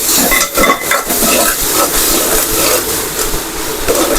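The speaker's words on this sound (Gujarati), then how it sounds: "હવે આપણે તેને સારી રીતે મિક્સ કરી લઈશું" Okra curry with chutney being stirred in a hot pan, a spoon scraping and clinking steadily against the metal over a loud continuous sizzle.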